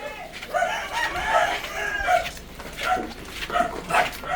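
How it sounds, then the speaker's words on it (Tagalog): Several dogs bark in short, repeated bursts around a rural spot, fairly close and steady throughout, mixed with a rooster crowing nearby. "Daming aso dito."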